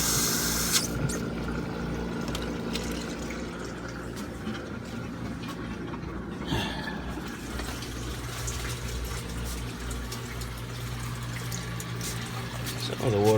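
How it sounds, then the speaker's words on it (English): Water runs steadily as it fills an aquarium sump in a fish room while a pump hums, a continuous close splashing flow lasting throughout. "Sump's just about full. Pump is running."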